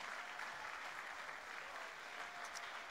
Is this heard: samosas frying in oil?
no